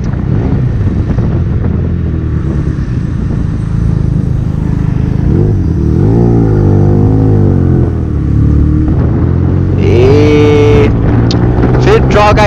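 A Benelli TNT 300 motorcycle is ridden in Pokhara, its loud engine droning close up under wind rush, with throttle swells around the middle and a sharper rising rev near the end.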